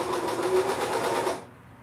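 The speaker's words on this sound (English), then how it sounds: "I am sewing." A sewing machine stitching a downsized t-shirt, a short close burst of rapid, even needle hammering that stops abruptly after about a second and a half.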